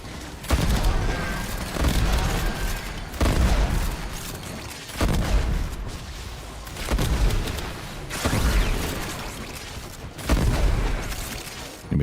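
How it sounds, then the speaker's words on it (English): Repeated bursts of video-game explosions and gunfire roar at intervals of about a second or two, loud and booming, separated by brief lulls. "Gonna be a lot of explosions here."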